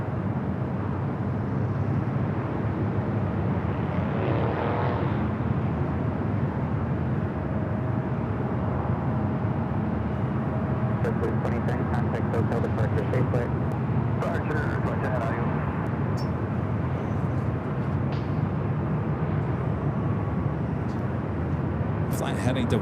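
An Airbus A321neo LR jet taking off at LAX produces a continuous loud, rushing roar that holds for the whole stretch while people talk over it.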